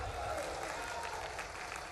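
An audience at an outdoor public event in Guna clapping steadily, a dense, even wash of applause from a large crowd, heard at some distance with no pause.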